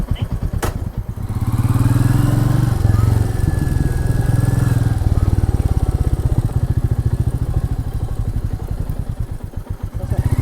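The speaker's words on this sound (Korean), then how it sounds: "잠깐만 시동 좀 끄자." A Royal Enfield Meteor 350 or Classic 350 motorcycle engine runs loud and close beside a lake, its steady low thumping idle chugging on with clattering mechanical noise throughout.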